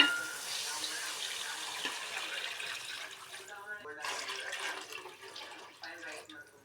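Water poured from a glass onto soaked rice in a pot for biryani, a soft splashing trickle that runs fairly quietly and stops near the end, with faint voice in the background.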